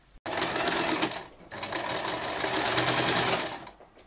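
A sewing machine stitches a shirt sleeve seam right sides together at 7.5 mm. It is a brisk, continuous mechanical chatter, close and fairly quiet, with a short pause midway before running on and slowing to a stop.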